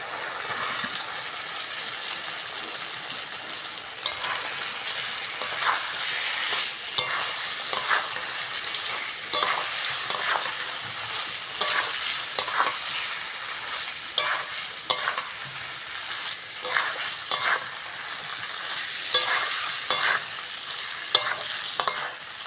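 Fried papaya pieces stirred into spiced masala in a pan for an egg curry, a continuous loud sizzle with repeated spatula scrapes and knocks growing more frequent, close by, with no voices.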